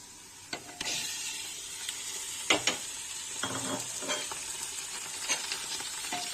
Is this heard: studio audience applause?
no